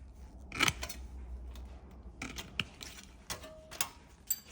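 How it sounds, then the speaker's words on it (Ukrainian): Hand metal shears snipping sheet-metal blanks, several distinct sharp clipping cuts at irregular intervals with light metallic clinks between them, close and alone. "Часом буває таке, що треба розвернути в процесі різу ножиці в заготовці."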